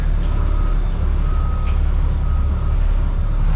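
A Freightliner Thomas Built school bus backs up with its reversing alarm beeping in a steady repeating pattern over a loud, continuous diesel engine rumble close by.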